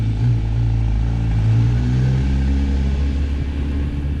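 A 2024 Honda CBR1000RR-R SP on Michelin Power 5 tyres pulls away with a loud, close, deep engine rumble that rises and settles, the drone continuing steadily for a few seconds with no talking.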